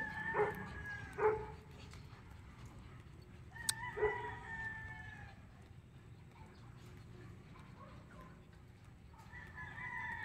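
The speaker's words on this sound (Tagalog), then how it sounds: "Galit na galit yung aso." An angry dog barks a few times at a distance, short sharp yelps in separate bursts, with a rooster crowing faintly in the background.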